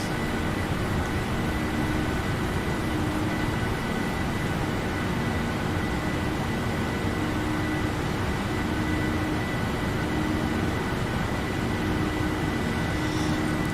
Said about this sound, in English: You can hear the engine in the background.